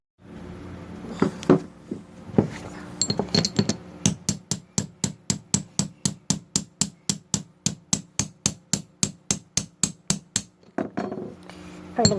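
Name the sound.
hammering a chisel to remove a Mercedes C320 front bearing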